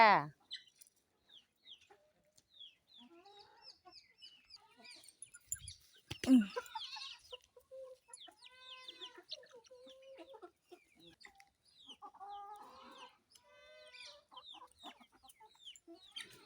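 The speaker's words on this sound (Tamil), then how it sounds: "எல்லா கோழியும் தீனி சாப்பிடுது. இந்த சேவல் மட்டும் சாப்பிட மாட்டேங்குது." Hens and a rooster cluck softly while feeding, with scattered quiet clucks and chirps spread over about sixteen seconds, close by but faint.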